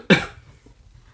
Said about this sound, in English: That cough was celebratory